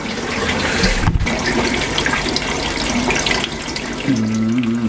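Water runs down inside the tube of a growing tower in a greenhouse, a steady, close rushing flow interrupted by one short knock.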